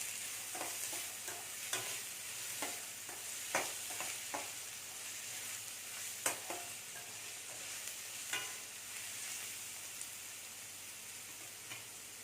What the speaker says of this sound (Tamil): இது இந்த வெங்காயத்து பொடியை போட்டு கொஞ்சம் நேரம் வதக்கிக்கலாம்.